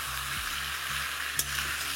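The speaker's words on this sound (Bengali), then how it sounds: "এবার এটাতে অল্প একটু হলুদ আর স্বাদ মতো নুন দিয়ে এটাকে ভাজতে থাকুন।" Sliced potatoes fry in a pan with turmeric and salt over a low-to-medium flame, giving a steady, close sizzle with light stirring and scraping and a brief sharper crackle partway through. No one speaks.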